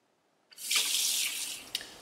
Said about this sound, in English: I'm gonna need just about an inch more of water.